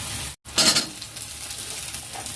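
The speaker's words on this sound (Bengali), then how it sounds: "তো চলো তাকে পেঁয়াজটা ভেজে নিই।" Onions fry in a pan for a home-cooked meal. The sound cuts out briefly, then a steady close sizzle swells and carries on at a moderate level, with no one talking.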